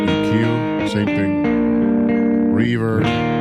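An electric guitar plays sustained chords through an amp, with a lush reverb tail letting each note ring and blend into the next.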